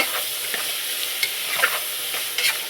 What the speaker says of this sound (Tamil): நல்லா கிளறி விட்டு